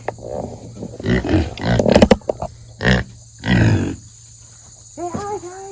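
Farm pigs give several low, rough grunting bursts at close range, separated by quiet gaps, with a voice briefly heard near the end.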